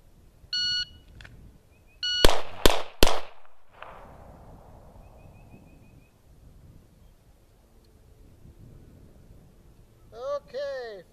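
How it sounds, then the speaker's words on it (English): Handgun fired during practice: a beep from a shot timer, then three sharp, loud reports in quick succession with a decaying echo, followed by quiet and another electronic beep near the end. "This time we'll do three shots, one target."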